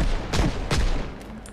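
A handgun is fired rapidly in the zombie survival game Project Zomboid. Two sharp, loud shots ring out close together, followed by two fainter ones.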